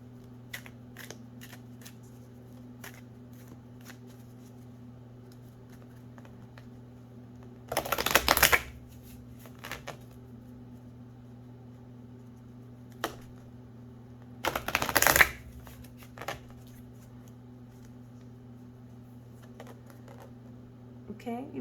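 Two short, crisp bursts of Spirit Guide Oracle cards being shuffled sound close by, with a few lighter card taps between them, over a steady low electrical hum in a quiet room.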